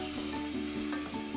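Farro sizzling in a hot pan after a splash of white wine, a steady close hiss and crackle with soft repeated stirring strokes.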